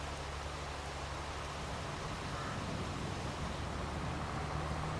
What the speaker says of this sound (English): you wouldn't normally spray your crop when it's raining